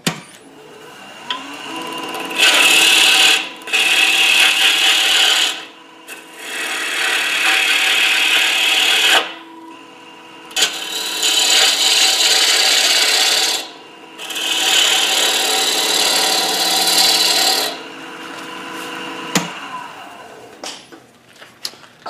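Wet wood spun on a lathe and hollowed into an enclosed form with gouges, giving loud rasping cuts in several long bursts separated by short quieter pauses.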